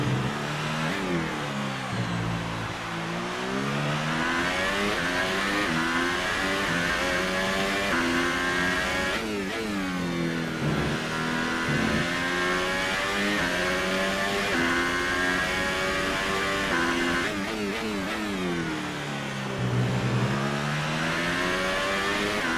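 Race cars on the final lap of a race, engines revving in rising and falling pitch sweeps as they pass and shift gears, loud and continuous over a steady roar.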